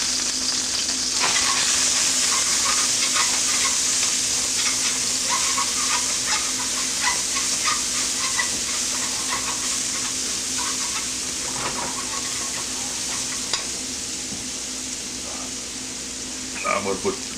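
Ginger and garlic frying in a hot pan for a Chinese dish, a continuous close sizzle and crackle with occasional stirring scrapes, steady throughout.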